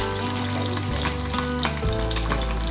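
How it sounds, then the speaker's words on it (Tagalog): Fish frying in a pan gives a dense, continuous sizzle of hot oil, close and steady for the whole short stretch, with a low sustained hum underneath and no voices. "Pagpiprito ng isda."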